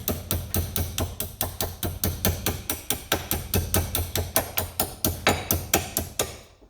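A hammer taps a part onto the front driveline of a Can-Am Outlander 650 XT, striking about three times per second in a steady rhythm of some twenty close, metallic blows with no talking.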